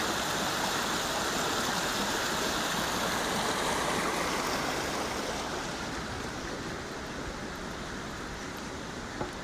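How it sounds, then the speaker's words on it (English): A bubbling creek with cascades and waterfalls in a nature preserve, a steady broad rushing wash of water that stays loud and unbroken throughout with no voices. "There's cascades and bubbling creeks and waterfalls"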